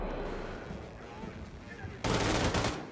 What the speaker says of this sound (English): So finally got a headshot with the dual wield assault rifles.